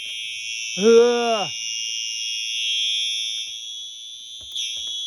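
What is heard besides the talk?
fire alarm going off in a Menards store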